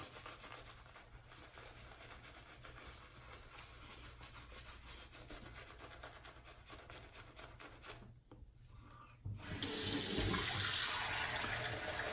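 A shaving brush works soap into lather on a face with steady, close wet rubbing and swishing, followed near the end by a louder rush of running water from a tap.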